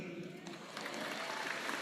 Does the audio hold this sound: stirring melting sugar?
no